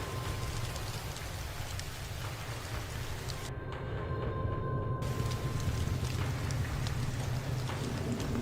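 Storm-like rain noise hisses steadily through a livestream's audio mixer, a dense broadband wash with a low rumble underneath, briefly thinning midway before swelling slightly louder, with no talking.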